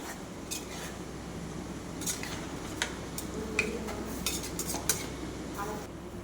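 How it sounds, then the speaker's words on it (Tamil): Spoon stirring banana flower kootu with spinach in a pan on the stove, scattered metallic scrapes and clinks against the pan over a low background hum, close and intermittent. "அடுத்து ஃபைனலாக கீரை ஆட் பண்ணிக்கோங்க ஃபுல்லாக. அப்படியே நம்ம கொஞ்சம் கிண்டணும்."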